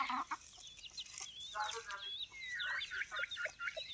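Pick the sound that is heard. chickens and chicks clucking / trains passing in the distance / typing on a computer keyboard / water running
chickens and chicks clucking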